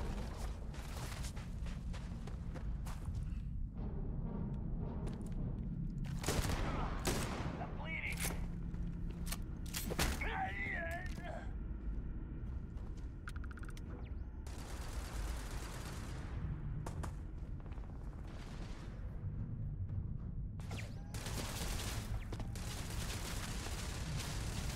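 Automatic turret fire in the video game Starfield, with repeated loud bursts of gunfire, mechanical clatter and impacts spread across a busy combat scene, mixed with game effects.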